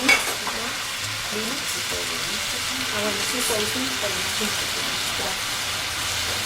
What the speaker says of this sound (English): I just stir and saute and stir and saute.